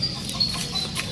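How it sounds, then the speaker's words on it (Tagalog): Brahma chickens, a large breed with feathered feet, clucking softly in a short burst of low, close murmuring calls during morning feeding. "Brahma chicken ang tawag dyan"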